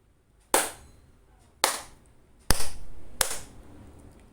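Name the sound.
hand clapping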